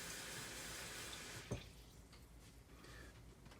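Cold tap water runs from a faucet into a small pan in a home kitchen, giving a soft, steady splashing stream with a brief louder splash partway through.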